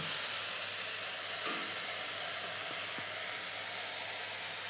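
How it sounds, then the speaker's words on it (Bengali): Water spinach sizzles steadily in a frying pan, a continuous soft hiss with a faint clink or two, heard alone without talk. "শাকটা প্রায় ভাজা হয়ে গিয়েছে।"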